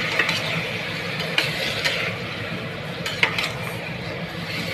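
Rice and leaves are stirred in a pan, giving a steady scraping, rustling texture with faint, irregular utensil clicks throughout.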